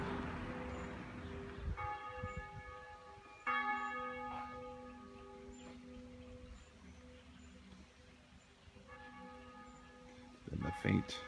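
Church bells ring faintly in the distance, several tonal strikes with long sustained overtones spread across the clip, over quiet outdoor ambience with a brief louder knock near the end.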